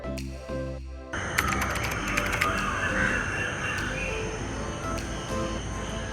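Crows caw repeatedly in the morning amid other birdsong in green surroundings near Kovalam Beach, Kerala. Sharp, loud calls rise over a steady chorus of chirping birds, with no talking.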